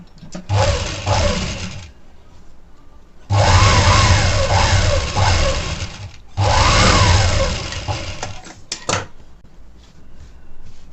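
A sewing machine stitching blouse fabric, running in three loud bursts of rapid whirring, each a couple of seconds long, separated by quiet pauses with faint handling clicks.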